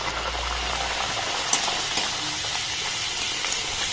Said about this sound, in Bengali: এইভাবে সমস্ত লুচিগুলোকে আমি খুব সুন্দর করে ভেজে নেব